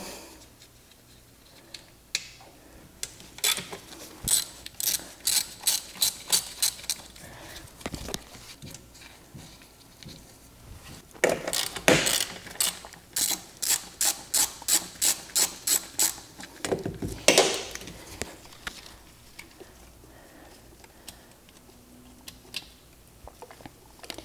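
Ratchet with an extension removing intake pipe bolts on a Mazda RX-7 FD, heard as several bursts of rapid clicking strokes separated by pauses, close and fairly quiet with no talking.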